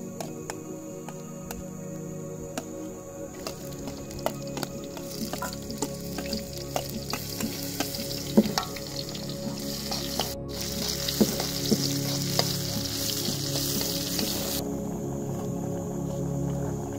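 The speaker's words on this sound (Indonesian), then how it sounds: "ikannya langsung dibersihkan kemudian dimasak" Fish sizzles and fries in a pan over an outdoor fire in the forest, a steady crackling hiss with occasional stirring clinks and pops, close and continuous, no voices.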